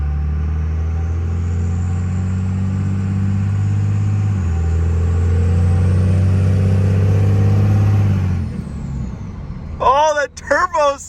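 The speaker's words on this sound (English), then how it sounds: "Oh, that turbo sound!" A Ford diesel truck with a Fleece turbo and MBRP exhaust revs hard, a loud deep engine roar with a rising turbo whistle that holds for several seconds and then drops away, followed by excited talking.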